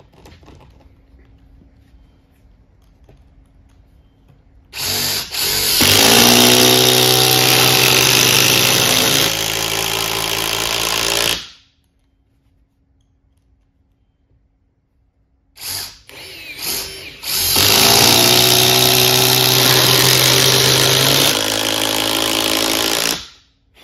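Two bursts of a Metabo HPT and a Ridgid power tool running loud and close, each roughly six seconds of steady high-pitched whirring with a short quiet gap between them.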